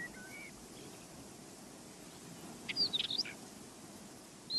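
Birds calling on a European island, including a ruddy turnstone among migrant and resident species; a short burst of bright chirps near the middle rises over a steady low outdoor hiss, fairly distant and brief.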